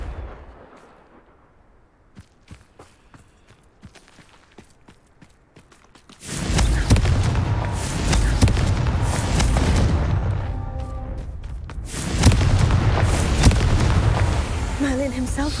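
Loud, sustained booming bursts of Confringo fire-spell explosions in Hogwarts Legacy, following a quieter stretch of scattered footsteps and clicks, with a voice calling out spells.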